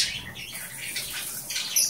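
Bourke's parakeets give soft chirps and squawks in a home aviary perched on canary cages, faint high calls over light room noise.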